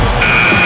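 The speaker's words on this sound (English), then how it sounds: "What a buzzer beater." A buzzer sounds in the NBA 2K11 basketball video game, a steady electronic tone starting partway through and holding to the end over loud crowd and arena noise.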